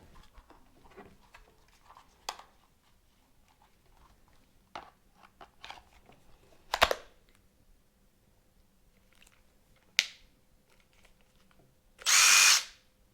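A cordless power tool fitted with a swapped-in battery of a different brand gives a few short clicks and blips, then whirs in one brief, loud burst near the end against a quiet room.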